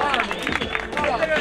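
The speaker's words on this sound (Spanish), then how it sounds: "¡Fuerte aplauso por estos dos competidores" Lively audience clapping and cheering for two competitors at a rap battle, dense rapid claps mixed with crowd shouts, close and continuous through a short burst.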